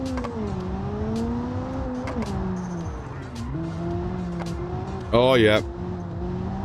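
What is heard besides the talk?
car driving and tire squeal in BeamNG.drive video game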